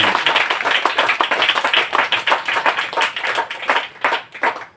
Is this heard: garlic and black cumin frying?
no